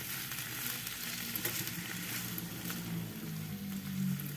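Oyster mushrooms and onions sauté in a pan on a gas stove with a steady sizzling and crackling hiss, soft and continuous beneath faint background music.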